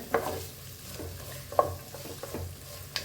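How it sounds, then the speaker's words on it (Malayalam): Sliced onions sauté in a pan for a Kerala squid roast, a soft continuous sizzle broken by a few stirring scrapes of the spoon against the pan. "ഇത് നമ്മുടെ സബോളൊക്കെ വഴറ്റി സെറ്റായിട്ടുണ്ട്"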